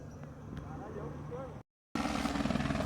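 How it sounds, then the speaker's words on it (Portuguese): A police helicopter drones overhead with steady rotor chopping, mixed with people talking, then a brief dropout before the low thumping returns louder. "Helicóptero."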